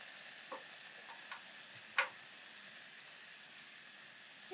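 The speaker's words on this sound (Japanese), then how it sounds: "あのこれぐらい沸騰してきたら一回火を弱めていきます。" Brown sugar caramel bubbling in a pan over low heat, a faint steady sizzle with a few soft pops and one brighter crackle near the middle, no voices.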